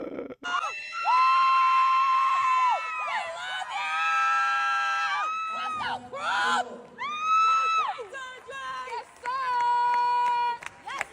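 A graduation crowd whoops and screams in sustained, high-pitched bursts of cheering, rising and falling in several waves, loud and lively, with voices shouting over one another.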